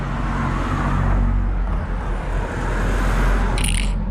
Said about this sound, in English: just wait for this car to go by